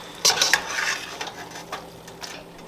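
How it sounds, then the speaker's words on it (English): Salsa is stirred in a metal pot with a utensil, giving close scraping and clinking taps in an uneven rhythm over a faint background sizzle. There is no talking. "Give that a stir."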